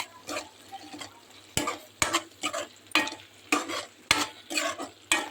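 Egg and potato masala with pepper powder is stirred in a pan, giving a steady rhythm of close, loud spoon scrapes and knocks over a soft sizzle.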